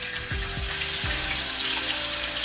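Strips of bacon hit a hot skillet and set off a loud, steady frying sizzle. A few sharp crackles come early, then a dense, continuous hiss runs close and even throughout, with no one talking.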